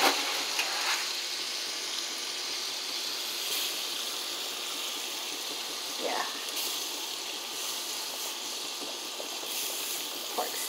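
Pork steak fries in a pan with a continuous bright sizzling hiss, steady and moderately loud throughout, with a few brief clinks and pops rising above it; a voice speaks intermittently alongside.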